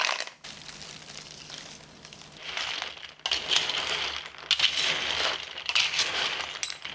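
Cockles rattle and clatter against one another as they are washed, bursts of dense shell clicking and scraping close by, pausing briefly and then resuming louder.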